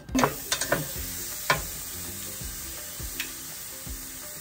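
Lamb meat sizzles steadily on a Pit Boss Sportsman 3-burner grill, a soft continuous hiss broken by a few clicks and scraping knocks near the start and scattered later, with no voices.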